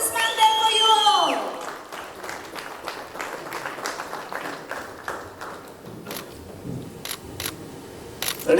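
Applause and clapping from a crowd at a film launch ceremony in Dubai, a dense burst of hand claps continuing steadily at moderate loudness with scattered camera clicks, tapering slightly toward the end.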